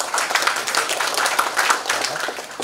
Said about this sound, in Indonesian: tepuk tangan sekali lagi buat Pak Pur